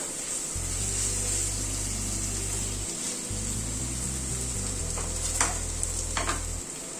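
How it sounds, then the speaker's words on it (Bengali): Spice masala is sautéed in a pan for a soya dish, giving a steady soft sizzle with occasional stirring scrapes near the end, beneath a low continuous hum, with no one speaking. "মিনিট 2-3 মশলাটাকে কষিয়ে নিলাম।"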